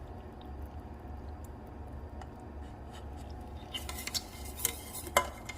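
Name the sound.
pouring thickened chili sauce over mac and cheese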